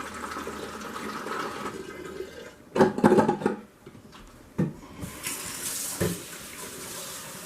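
A honey mixture for mead pours into a bottle with a close, gurgling liquid stream in two bursts. A brief knock falls between them, over a low background hiss.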